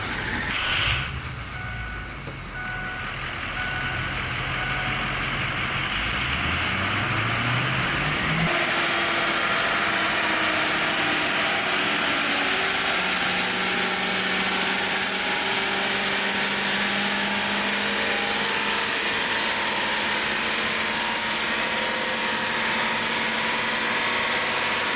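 A 6.0L Power Stroke diesel truck fitted with compound turbos runs hard on a dyno, its loud, continuous engine roar and rising turbo whine building steadily and holding for the whole stretch with no talk.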